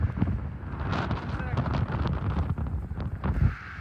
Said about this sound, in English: The wind is just completely overpowering and like blowing you over